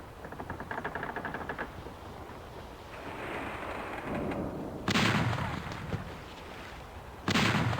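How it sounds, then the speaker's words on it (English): Ship cannons firing a broadside in a naval battle video game, two sharp loud booming blasts standing out after a stretch of softer rattling gunfire and background noise. "we're going to actually be turning to our right and unloading the full 4 cannons onto him"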